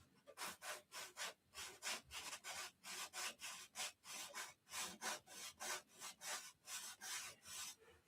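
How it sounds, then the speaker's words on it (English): Rhythmic back-and-forth scraping of abrasive on wood, steady strokes about twice a second, close and fairly quiet, with no voices. "Keep sanding and putting it on till it's perfect."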